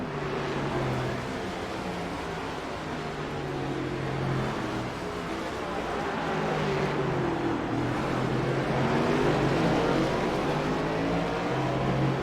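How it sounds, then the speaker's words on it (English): Race cars at an all-star track event roar past with rising and falling engine whine, one drifting out of a turn. The loud engine noise stays steady and continuous, with overlapping cars sweeping in pitch as they pass. "Garman drifts it out of the turn."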